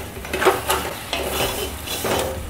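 A spoon stirs and scrapes through semolina sheera in a pan as sugar and cardamom powder are mixed in, with soft repeated metallic scrapes and a faint sizzle, close by with no talk.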